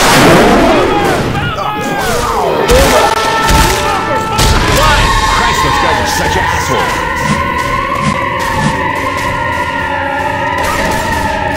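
Assault rifle gunfire in the video game Left 4 Dead 2 during a chaotic zombie fight, with dense loud bursts and booms throughout under overlapping game noise and shouted voices.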